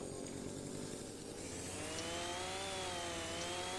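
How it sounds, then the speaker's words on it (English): A chainsaw in the video game No Man's Land drones steadily and loudly throughout, its engine pitch climbing partway through as it revs up. "I wonder if I could use the chainsaw."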